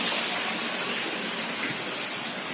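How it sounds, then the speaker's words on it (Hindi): Heavy rain pours steadily during a power cut, a dense even hiss close by with no voices. "काफी तेज बारिश हो रही है और जोरों से बारिश हो रही है"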